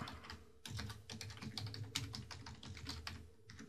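Someone types an email address into a Facebook sign-up form on a computer keyboard. Close, quiet key clicks come in a steady, rapid run and are heard alone, with no voice.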